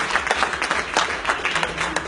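An audience at a money and forex seminar claps briefly, a quick burst of scattered, sharp hand claps at moderate loudness.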